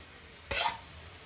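One quick scrape of a spoon stirring cooked basmati rice with fried paneer and peas in a pan, a short soft swish standing out against a quiet background.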